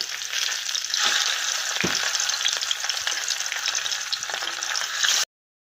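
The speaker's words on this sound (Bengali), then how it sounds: "মাছগুলোকে এক এক করে সুন্দর করে উল্টে পাল্টে ভেজে নেব" Pabda fish frying in hot oil in a pan, a loud, steady close sizzle with stirring and scraping as the pieces are turned one by one, with no talking.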